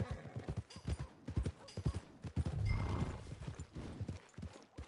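A horse walks near stables, its hooves clip-clopping in a steady close rhythm on hard ground, with a brief whinny partway through and no talking.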